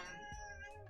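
A cat meows with a strong harmonic, drawn-out call that swells and falls across the second, close and loud with no talk over it.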